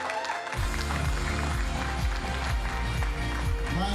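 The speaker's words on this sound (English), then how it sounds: "please let's give him a big round of applause as he receives his certificate" At a Grade 12 farewell luncheon, the audience gives a round of applause as a student receives his certificate. Steady, fairly close clapping begins after a short pause and continues evenly, with faint thumping underneath.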